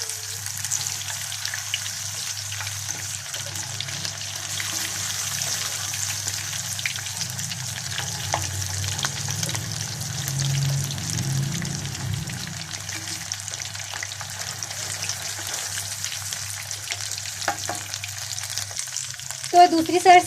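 Potato kababs (aloo ke bhuray) deep fry in hot oil with a steady, close bubbling sizzle that crackles continuously, with a few brief clinks near the end.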